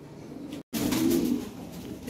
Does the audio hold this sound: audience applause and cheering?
no